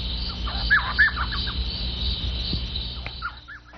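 Small owl nesting in cactus gives yelping and chuckling call notes at dusk: several short, mid-pitched yelps over a steady hiss of background noise.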